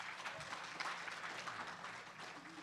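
Conference audience at an opioid epidemic plenary claps steadily from start to finish, a soft, fairly distant patter of many hands with no voices on top.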